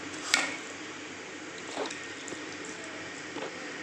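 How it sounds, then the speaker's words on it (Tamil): Water trickles gradually into rava batter as it is mixed for rava dosa or idli, a soft, close liquid pour with light splashes and a faint stir, no voices. "இப்போ கொஞ்சம் கொஞ்சமாக நம்ம தண்ணி ஊற்றும்போது"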